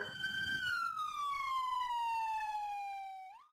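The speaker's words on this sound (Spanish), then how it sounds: "A lo lejos se escuchan sirenas." A single siren wail, slowly falling in pitch over a few seconds, sounding fairly distant with a faint low rumble at the start, no talking.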